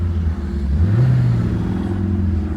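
A 2001 Saturn SC2 engine with a high-idle fault revs up once from a rough idle, pitch rising briefly and settling back into a steady, close mechanical hum.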